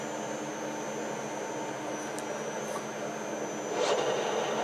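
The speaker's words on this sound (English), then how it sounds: "I'll get it just started with the lathe" A metal lathe running a slitting saw arbour gives off a steady, close mechanical whir with a thin high whine, holding even and swelling slightly louder near the end.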